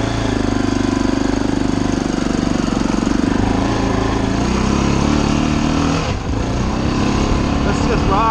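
An Army Harley motorcycle ridden off-road over rocky ground, its engine a loud, steady, close rumble with a gritty pulsing chatter and a brief dip in throttle near the end, with no talking.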